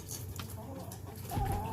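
A chicken in an indoor coop in Alaska gives a few low clucks and a short throaty call, heard close over a humming background.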